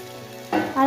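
Boiled potato goes into a hot frying pan, where a quiet hiss swells suddenly into a brief, close sizzle less than a second long.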